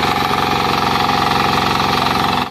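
An 8 HP diesel engine on a power tiller runs close and loud, with a fast, steady knocking throb and dense mechanical clatter throughout, briefly dropping off at the very end.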